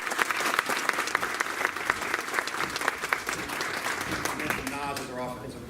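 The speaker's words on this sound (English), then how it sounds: "So give him a round of applause." A crowd at a basketball banquet claps in dense, sustained applause that tapers off near the end, with a voice emerging faintly as it fades.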